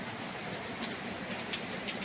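Heavy rain hisses steadily and continuously, a thick wash of falling water with scattered sharper drop patters, no voices.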